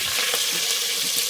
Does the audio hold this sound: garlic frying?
yes